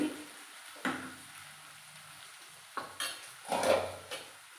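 A spoon scraping and stirring okra curry in a pan, producing a few soft, irregular clinks and scrapes over a faint low sizzle.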